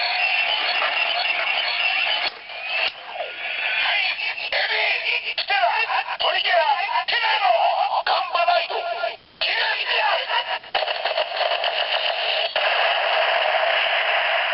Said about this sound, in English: that's the noise that comes out of the scanner when this whole thing is made